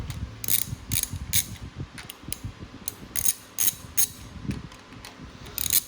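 A ratchet backs off the cam cap bolts on a turbocharged Toyota 2AZ-FE four-cylinder engine during teardown, giving close, crisp bursts of clicking with irregular pauses and faint handling noise between strokes.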